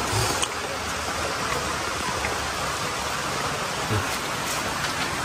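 Continuous rainfall pattering on surfaces, a broad steady hiss with a few louder drops now and then.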